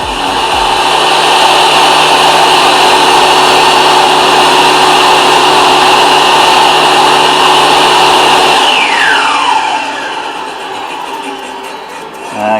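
A power saw pushes through a thin board with fabric glued to its edge, a loud, steady high whine that holds for several seconds, then drops in pitch and fades as the cut finishes.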